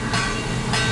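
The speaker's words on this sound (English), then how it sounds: "It's a train." A train rumbles past at EPCOT, loud and close, a steady broadband roar with a brief swell of rolling noise lasting about a second.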